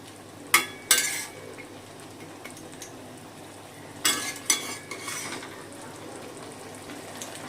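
Bottle gourd cooking down with spice masala in a pan, stirred with a utensil: a few sharp scraping clanks near the start and again midway over a steady low sizzle, with no talk.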